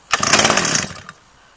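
A small Mitsubishi engine, just after carburetor work, roars briefly and loudly with a buzzy, chainsaw-like rasp for under a second, then sputters and fades into near silence.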